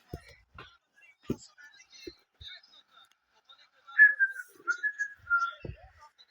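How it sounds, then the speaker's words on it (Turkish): A person whistles a short, bright tune in a few rising and falling notes after some quiet, scattered soft knocks. "eğlencesine ıslık çalıyorum ben bazen"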